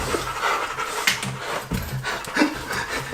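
A dog pants steadily and close by in a forest, quick rhythmic breaths with light rustling alongside, no talking.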